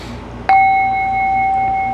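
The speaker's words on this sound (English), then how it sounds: "Letting the sound, the vibration of the bell enter your body." A single meditation bell is struck once, a bright ring that rises sharply and then sustains as a long, steady, pure tone slowly fading, heard alone and close.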